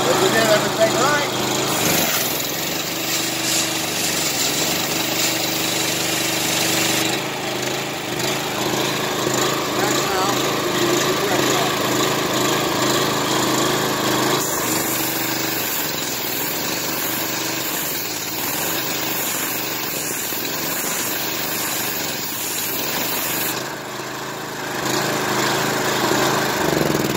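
A gas-engine pressure washer runs steadily up close, its buzzing small-engine drone holding nearly constant for the whole stretch with slight shifts in load, while a person talks intermittently over it.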